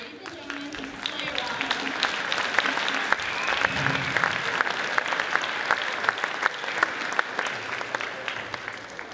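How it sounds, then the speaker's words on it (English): Sustained audience applause at a middle school concert for guest performers, dense steady clapping from a large crowd filling the hall for about nine seconds, with some voices mixed underneath. "Please give our guest performers a warm round of applause."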